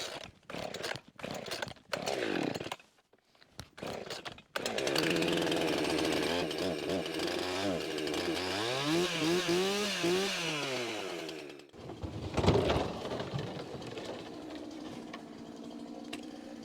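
A chainsaw buzzes loudly, first in short bursts, then in a long, sustained run as its pitch rises and falls under load.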